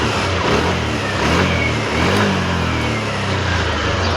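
Yamaha Aerox 155 scooter engine runs loud and close with a steady mid-pitched drone and slight revving swells, a bike with a spark plug problem that keeps stalling.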